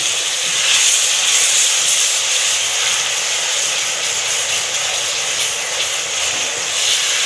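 Onions with garlic ginger paste fry in oil or ghee for nihari, a loud, continuous, close-up hiss that stays broad and steady for the whole stretch.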